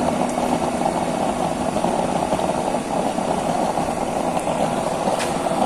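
A homemade burner chamber without a nozzle fires at near full power, giving off a steady, loud roaring hiss with a constant rumble that holds unchanged throughout, with no talk.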